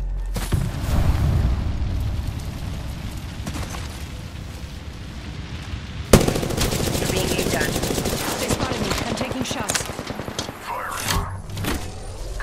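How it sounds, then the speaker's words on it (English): Gunfire and a grenade blast ring out in an Apex Legends match in Kings Canyon: sharp bursts and booms, a loud impact near the middle, then rapid repeated shots, with in-game voice callouts over the action. "Throw my grenade out."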